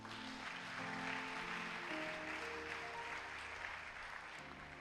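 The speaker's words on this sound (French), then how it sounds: "On peut acclamer Jésus-Christ." A church congregation at a Sunday worship service applauds and cheers to acclaim Jesus Christ, with steady, dense clapping and crowd noise sustained throughout and music tones beneath.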